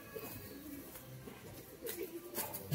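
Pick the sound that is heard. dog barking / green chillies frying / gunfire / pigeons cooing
pigeons cooing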